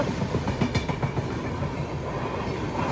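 On the rainy Konkan coast, the Sawantwadi–Diva train with Konkan Railway LHB coaches rolls past in a continuous, loud rush, with a soft clickety-clack of wheels over rail joints near the start.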